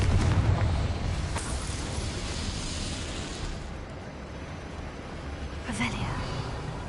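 Confringo spell blast in Hogwarts Legacy, a broad fiery explosion with a rumbling burst early on and a second sharper crack near the end, heard among game ambience and voices.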